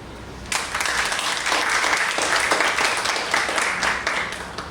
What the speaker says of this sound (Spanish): A la memoria de él, un aplauso.